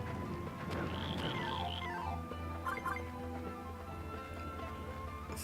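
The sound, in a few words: frog enemies in Wonder Boy: The Dragon's Trap video game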